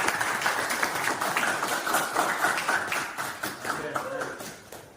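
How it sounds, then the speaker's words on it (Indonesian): Schoolchildren in a classroom clap their hands together for several seconds at a lesson's end, a busy, fairly close patter of claps tapering slightly toward the close, with voices mixed in. "Tepuk tangan."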